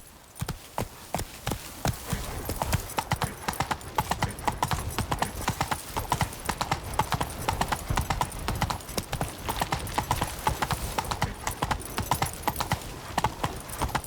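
Horse hooves galloping in The Witcher 3: Blood and Wine video game, a steady rapid clip-clop rhythm close and loud throughout, with a brief whinny and a short spoken line.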